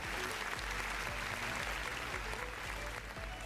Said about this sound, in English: Please give a virtual round of applause for our sisters from India.